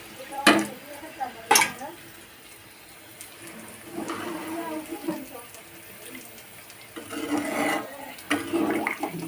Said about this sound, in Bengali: এখন একটা জল দিয়ে দিলাম।